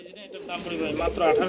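Pigeons coo softly during a pigeon sale, with a voice talking over the short, low calls.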